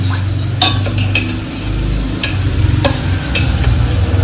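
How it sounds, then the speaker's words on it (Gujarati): A spoon stirs lemon juice into bel fruit sharbat, giving several sharp metallic clinks against the vessel over a constant low hum and a soft swishing of liquid. "હું અહીં અડધું લીંબુ નાખું છું સારી રીતના મિક્સ કરી લેવાનું"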